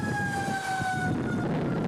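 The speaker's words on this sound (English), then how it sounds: "Sirens wailed as winds roared" Emergency vehicle sirens sound during a storm in Atlantic City, a steady, slowly falling wail heard at a distance through roaring wind noise.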